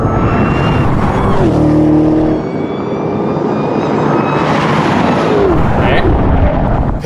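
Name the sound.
Dodge Black Ghost and Kia EV6 GT drag racing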